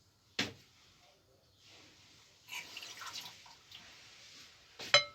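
Water pours in a short trickle onto cooking ingredients mixed with oil for a Moroccan meat dish with prunes and almonds, heard close and quiet between a few clinks and knocks.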